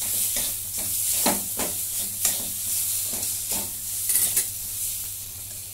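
Coriander powder being stirred into a frying pan, with a steady soft sizzle under repeated scraping strokes of a spoon against the pan.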